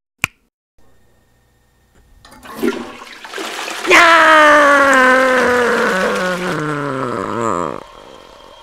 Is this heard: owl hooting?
no